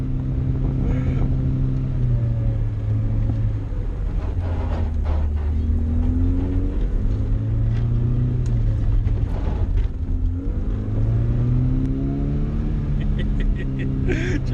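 Datsun Stanza car being thrashed around a paddock, its engine droning and revving up and down in rising and falling sweeps close by, with people talking and shouting over it.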